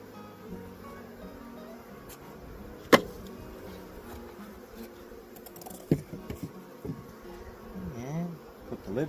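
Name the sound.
honey bees buzzing around the hive during inspection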